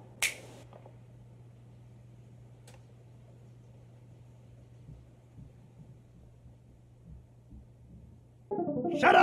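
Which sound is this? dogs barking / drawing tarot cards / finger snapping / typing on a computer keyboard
finger snapping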